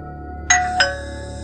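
An electronic doorbell at an iron gate gives a two-tone ding-dong, the first tone sharp and the second following closely, then a lingering ring over a low steady hum.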